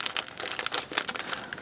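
Plastic bag crinkling as model kit parts are handled, a continuous fine rustling with small crackly bursts, close and fairly quiet, with no talk.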